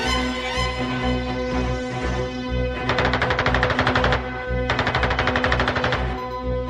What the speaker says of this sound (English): E-16 was armed with 2 Shkas machine guns